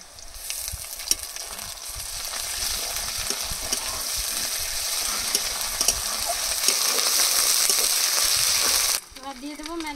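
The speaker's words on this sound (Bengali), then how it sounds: "পেঁয়াজগুলো লাল লাল করে ভেজে নিয়েছি, এবার আদা বাটা দিয়ে 1 মিনিট কষিয়ে নেব।" Ginger paste sizzles and fries with browned onions in a pan for home-style chicken curry, steady crackling and stirring close up for about nine seconds before cutting off abruptly.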